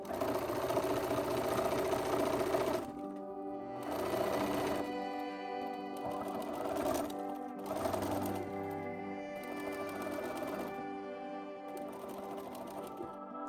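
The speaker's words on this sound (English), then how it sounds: "So now I'm gonna take it to the sewing machine and I'm gonna stitch all the way around the circumference" A sewing machine stitches around the hem of a Renaissance fantasy-inspired dress, its rapid mechanical whirring running in several bursts separated by short pauses, close and clear.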